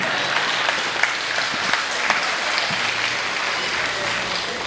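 Audience applause at a Hindi comedy or poetry stage show, moderate and steady with a few sharper claps standing out, filling the clip with no speech.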